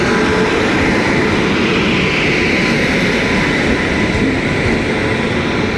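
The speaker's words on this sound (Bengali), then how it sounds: "ট্রেন চলে আসছে।" A Kamrup Express train pulls into a railway station, its steady loud rumble and wheel noise rolling continuously and close by the whole time, with no voices over it.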